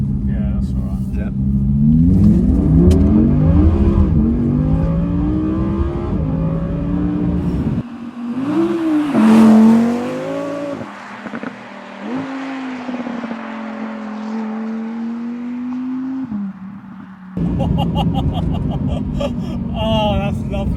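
An Audi R8 V10 engine revs and pulls through rising, sweeping gear-by-gear tones, loud and close from inside the car, with people talking over it in places.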